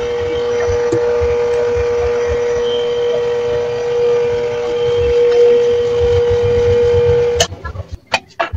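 A compressor engine runs with a steady, loud mechanical drone and a sustained hum, then cuts out near the end, leaving a few sharp clanks.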